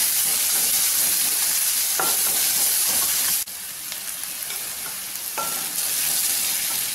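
Chopped onions roast and sizzle in a pan of hot oil for a spicy masala egg fry, a steady close hiss broken by a few scraping stir strokes, with no voices.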